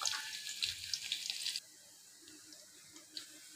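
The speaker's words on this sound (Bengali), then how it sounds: "এখন দিয়ে দেব কিছুটা কোচানো পেঁয়াজ" Chopped onion sizzles in hot oil while cooking a fish-head curry with winter vegetables, a steady close crackle for about a second and a half before it drops to a faint low hiss.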